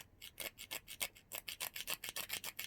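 A stone tool raked repeatedly along a gouge in bone while making a primitive sewing needle, with quick, even, close scraping strokes in a steady rhythm and no talk.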